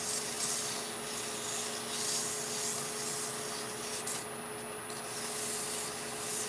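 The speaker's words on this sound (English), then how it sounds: "So, I'm just giving it a quick sand." Green hawthorn wood being sanded on a lathe, a steady close rubbing hiss that continues evenly throughout, over a faint constant motor hum.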